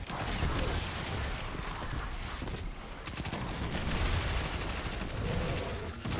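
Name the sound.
SMG gunfire in the video game Destiny 2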